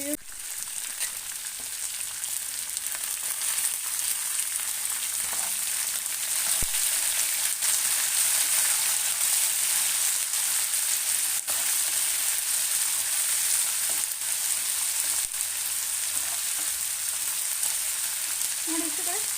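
Onions fry in hot oil in a pan for masala chitranna, giving a continuous, loud, close hiss of sizzling that holds steady for the whole stretch, with an occasional faint stirring tap.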